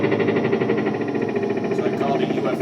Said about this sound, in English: So I call it a UFO reverb